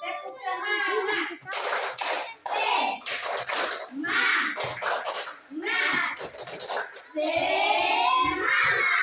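A classroom of children doing the 'tepuk semangat' clap: several bursts of loud rhythmic group clapping, with children's voices between and over them.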